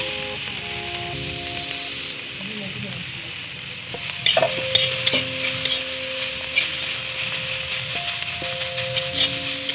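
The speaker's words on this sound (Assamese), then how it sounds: "এনেদৰে উৰহীখিনি আৰু মাছখিনি ভালদৰে ভাজি ল'ম, যাতে মিহলি হৈ যায় উৰহীখিনিৰ লগত।" Fried head of a gorai fish stir-fried with urohi beans in a pan, a steady sizzle with occasional metallic clinks, growing louder partway through as stirring picks up, close with no talk.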